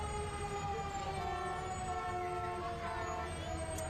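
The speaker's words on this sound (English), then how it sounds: "I can hear the Berkeley County Emergency Services engine number 90 fire truck somewhere back there" A Berkeley County Emergency Services fire engine siren wails steadily in the distance during a Christmas parade on Main Street, Martinsburg, rising and falling tones over a constant background rumble of traffic.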